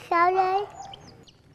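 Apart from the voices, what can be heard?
chicken clucking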